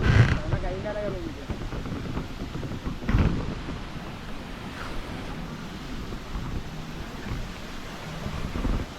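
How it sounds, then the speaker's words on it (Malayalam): A mountain stream flows on the Pulmedu forest trail to Sabarimala, its continuous broadband rush mixed with wind buffeting the microphone and a brief voice near the start. "ഇപ്പോൾ ഈ വെള്ളം ഒഴുകുന്ന സൗണ്ടാണ് നമ്മൾ നേരത്തെ അവിടെ നിന്നപ്പോൾ കേട്ടില്ലേ"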